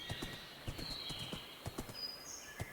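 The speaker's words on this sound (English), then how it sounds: "Oh, I see more horses." Horses in a video game, with soft scattered hoof clops and faint snorts over a quiet ambient background and thin high tones drifting through.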